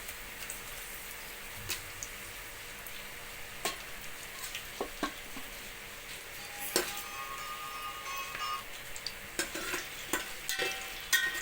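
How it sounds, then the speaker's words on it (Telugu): Whole biryani spices fry in hot oil in a pot with a soft steady sizzle, broken by scattered crackles and pops and occasional stirring scrapes, close and moderately quiet. "బాగా ఫ్రై చేసుకుందాం"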